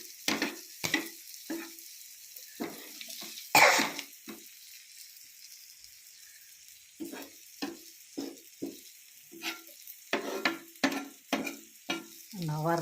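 Dried fish frying in a pan of oil, heard as intermittent bursts of sizzling and scraping stirs separated by quiet pauses, close and moderately loud.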